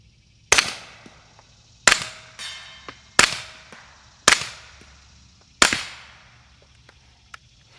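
Five sharp, evenly spaced suppressed rifle shots firing 147 grain Callaway Ballistic subsonic rounds through a small AB Suppressors F4, each a crisp crack with a brief decaying tail, loud and close with quiet between.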